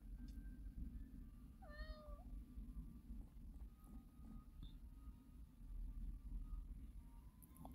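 Kitten meowing in the video game Stray Cat Doors 3, a single short clear meow near the middle over a steady low game background hum, with no talking.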